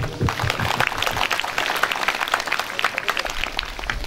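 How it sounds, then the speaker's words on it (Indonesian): Crowd applause at an outdoor ceremony for a martial arts school's examination, continuous clapping from many people throughout, with a voice faintly mixed in. "Tepuk tangan untuk Kumpul Naga Sakti."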